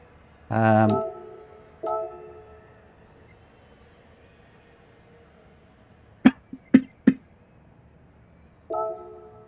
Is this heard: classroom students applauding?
no